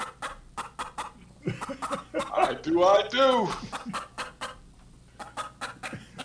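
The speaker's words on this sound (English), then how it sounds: "He plays the chicken sound." A chicken clucking sound effect plays during a live show, a burst of squawky clucks and cackles in the middle, with people talking around it.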